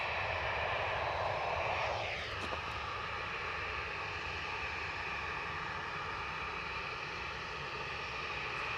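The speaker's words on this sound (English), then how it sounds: "EasyJet from Milan, operated by EasyJet Europe, an A320neo" An easyJet Airbus A320neo arriving from Milan at Edinburgh Airport passes with a steady engine whine, its high tone sliding downward early on as it goes by, followed by a sustained distant roar.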